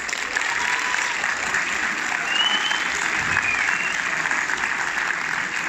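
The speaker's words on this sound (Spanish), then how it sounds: "si vas a dar un aplauso, dalo fuerte." Sustained, strong applause from a large conference audience, a dense wash of clapping that stays loud and even throughout with no speech on top.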